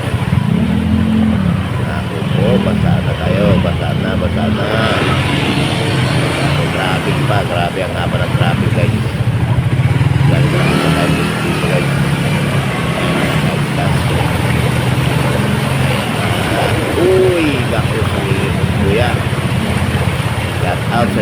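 Cars and motorcycles idle and creep through snarled traffic on a flooded street in España, engines rumbling continuously nearby while someone talks throughout.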